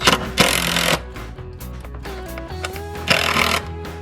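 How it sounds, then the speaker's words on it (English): A 1/4 inch driver runs screws into a fence while mounting a bluebird nest box, giving two loud, close whirring bursts separated by a quieter stretch of mechanical rattling. "Got a 1/4 inch driver on here."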